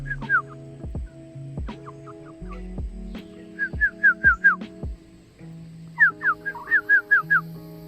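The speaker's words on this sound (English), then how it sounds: "Chickens are amazing. Isn't that right? They're great. We have our own little flock of them." Pet chicken from a small backyard flock clucking while held in someone's arms, a series of short, bright repeated clucks and chirps in clusters, close and fairly loud, with soft low handling noise beneath.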